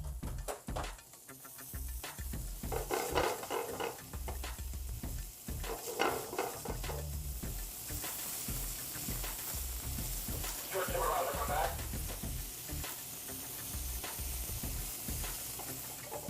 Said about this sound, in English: So what we're going to do is basically brown the fish on both sides